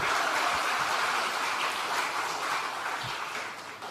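Applause from an audience at an Indonesian political talk event, a dense steady wash of hand claps at moderate level that slowly fades toward the end.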